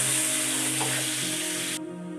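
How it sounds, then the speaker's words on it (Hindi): Two kilograms of mutton frying in a pan with golden onions gives a steady, loud sizzle that drops a little near the end, with a faint stirring scrape and no speech. "वो मैं ऐड करता हूँ इसमें और इसको 2 से 3 मिनट के लिए जो है फ्राई कर लेते हैं।"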